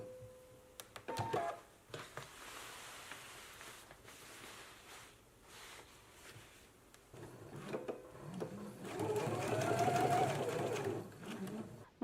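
A sewing machine stitches back and forth to reinforce a garment seam, pivoting at a marked circle. It sounds faint and intermittent at first, then gives a louder sustained run of stitching near the end.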